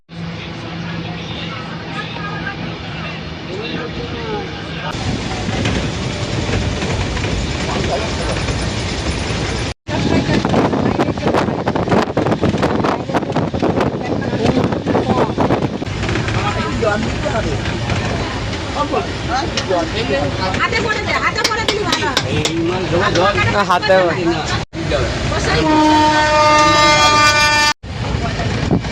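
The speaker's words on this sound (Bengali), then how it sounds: "এখানে হচ্ছে কিনা প্রচুর পরিমাণে ট্রেনের আওয়াজ হচ্ছে" A long-distance train from Howrah toward Haridwar roars loudly and continuously along the tracks with rattling clatter, and a horn blares near the end while people talk over the din.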